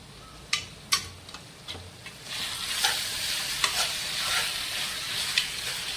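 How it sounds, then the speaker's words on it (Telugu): Chicken fries in a pan with a sprinkling of chilli powder, giving a soft, continuous sizzle under sharp spoon-on-pan scrapes and clinks as the pieces are stirred, moderately close with no talking. "చికెన్ వేసేసాను కదండి ఒక చెంచా కారం వేసుకుందాం"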